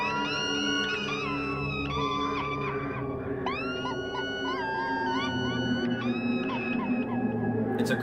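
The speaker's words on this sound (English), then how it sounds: "It's a combination of the albatrosses from the beginning and the whale sounds for the echo." Whale-like cries from Pink Floyd's Echoes glide and wail in long, bending high tones over a sustained droning bed, several swooping calls overlapping and repeating at full, close loudness.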